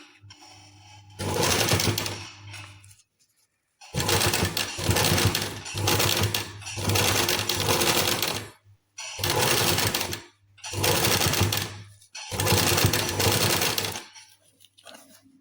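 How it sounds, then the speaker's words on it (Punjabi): A sewing machine stitches a finishing strip in rapid bursts of needle clatter, several runs of a few seconds each separated by short pauses, close and loud. "ਸਲਾਈ ਲੱਗ ਰਹੀ ਹੈ"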